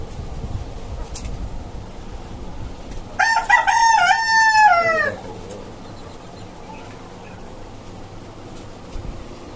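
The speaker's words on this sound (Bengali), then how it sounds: "আর এইখানে আমার আরেকটা টাইগার মোরগ আছে" A rooster crows once nearby on a rooftop chicken farm, a loud ringing call lasting about two seconds over a quiet outdoor background.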